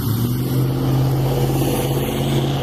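Road traffic rolls by on a 45 mph road, a white truck among it, with a loud, close, steady engine and tyre rumble and a continuous low hum.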